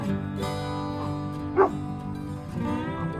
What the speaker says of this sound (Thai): หมาในบ้านเขาเห่าละ